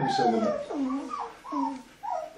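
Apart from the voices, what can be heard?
two-week-old Berger Blanc puppies whimpering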